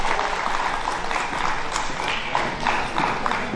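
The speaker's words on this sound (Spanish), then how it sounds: "Aplauso, por favor," Steady applause from an audience at a Mother's Day community celebration held for a Dominican financial planner, a dense patter of clapping at constant level throughout, with faint crowd noise underneath.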